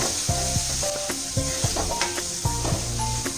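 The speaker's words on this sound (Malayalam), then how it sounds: "അതോടൊപ്പം തന്നെ 150 ഗ്രാം ചെറിയ ഉള്ളി ചെറുതായിട്ട് അരിഞ്ഞതും ചേർത്ത് കൊടുക്കുക. നമുക്ക് നല്ലവണ്ണം വരട്ടി യോജിപ്പിക്കാം." Chopped shallots with mustard seeds crackle and hiss in a pan for Kerala-style ginger curry, a steady close sizzle marked by repeated scraping stirs, with music playing underneath and no talking.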